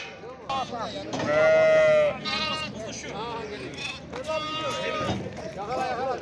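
Lambs bleat repeatedly in wavering cries, close by, while people talk over them at a livestock market.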